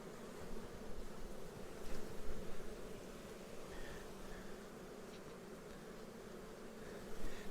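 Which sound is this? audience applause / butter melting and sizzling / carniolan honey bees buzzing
carniolan honey bees buzzing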